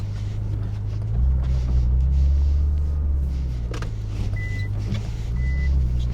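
A Nissan GTR R35 reversing into a parking space in Kenya gives a low, steady engine rumble with slight swells, close by, with faint mechanical clicks over it.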